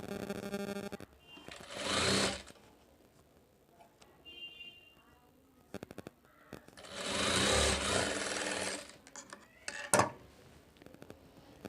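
Sewing machine stitching the front panel of a blouse, running in two loud bursts of a couple of seconds each, with quieter handling and clicks between runs.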